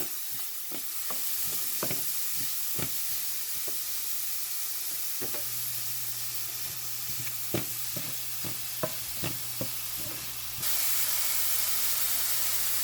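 Onions sizzling in oil with salt in a pan, a steady soft hiss with scattered sharp clicks and taps of a spoon stirring, moderately close, and the frying grows a little louder near the end.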